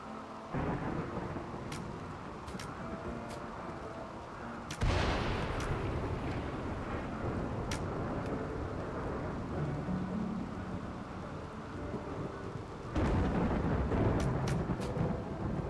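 Steady heavy rain hiss with low rumbling thunder rolls during a RimWorld battle in the desert, with a few faint sharp cracks of gunfire scattered through; a louder burst of storm noise swells near the end.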